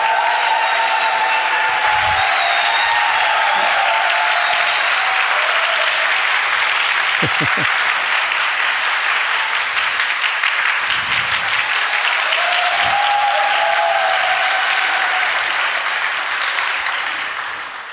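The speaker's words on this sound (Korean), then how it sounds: "나오실 때 우리 힘찬 박수로 한번 축복합시다." Congregation at an Easter union church service applauding warmly as the preacher comes forward, sustained loud clapping for many seconds that fades at the end, with faint voices underneath.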